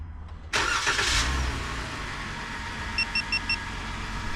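A 2024 RAM 1500 engine fires up via an aftermarket remote starter, a loud burst of ignition settling into a steady idle, followed by four short, evenly spaced electronic beeps.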